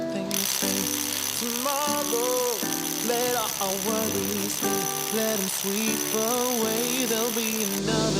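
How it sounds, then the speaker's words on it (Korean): A hammer drill boring holes for 20mm anchors in a building's construction base during H-beam steel reinforcement work: loud, continuous rattling drilling with rising and falling pitch, close by. "시공대 부분에 20mm 외지 앙카가 들어갈 구멍을 타공해주고"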